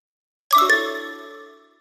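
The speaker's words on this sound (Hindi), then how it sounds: "मैसेज आया।" A phone chimes once with a short, bright two-tone ding announcing an incoming message, close and clear, then rings out and fades over about a second with no talk.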